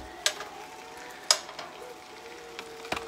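Sausage frying in a pan for breakfast gives a faint, steady sizzle, broken by a few sharp utensil clicks and taps.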